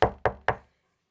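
Three sharp, evenly spaced knocks on a house door, loud and close, each ringing briefly before fading into silence.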